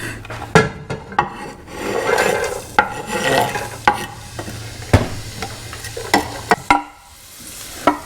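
Onions go into hot olive oil over medium heat, giving a close, rising sizzle broken by sharp scrapes and clacks of a utensil and pan, with no voices.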